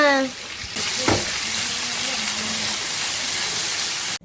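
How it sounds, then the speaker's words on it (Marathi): Mackerel frying in a hot pan in a Konkan home kitchen: a dense, steady crackling sizzle that starts abruptly and continues close and loud with no talk. "आमचो बांगडो बरो चरचरीत फ्राय जाल्लो आसा"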